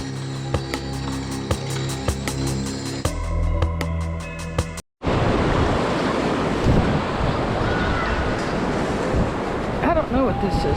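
Ocean surf rolls onto a beach at Daytona Beach, Florida, with a broad continuous wash and wind buffeting the microphone in the second half, after a stretch of clicking metal detector tones.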